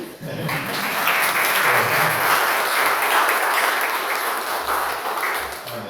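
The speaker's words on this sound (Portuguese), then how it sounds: "A gente para aplaudir?" A church congregation applauds at a discipleship gathering, sustained full-room clapping that rises quickly and carries on steadily, with a few faint low bumps and murmurs underneath.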